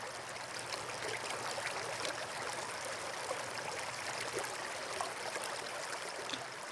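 A stream flows steadily in an unbroken, gentle rush of water, with a soft trickling texture and no voices.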